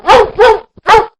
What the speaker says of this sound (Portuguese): o cachorro sarnento enxotado pra dentro